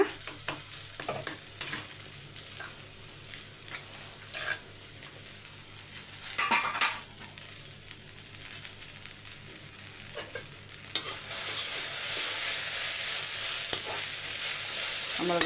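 Mashed potato stirred with chilli powder in a frying pan sizzles softly and steadily, broken by close scraping and clinks of a utensil against the pan, with a louder hiss building toward the end and no talking.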